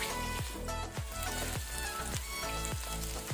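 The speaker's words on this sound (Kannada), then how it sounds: "ಇದನ್ನೀಗ ಒಳ್ಳೆ ರೀತಿ ನಾವು ಮೀಡಿಯಂ ಟು ಹೈ ಫ್ಲೇಮಲ್ಲಿ ಫ್ರೈ ಮಾಡ್ಕೊಳ್ವ" Chopped onions fry in a pan over medium to high flame, giving a faint, steady sizzle with soft rhythmic pulses and a tonal hum beneath.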